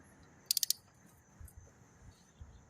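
A ratchet clicks four quick times while tightening a spark plug on a 2007 Suzuki GSX-R1000 motorcycle, a crisp burst of clicks followed by faint handling noise and soft thumps in a quiet setting.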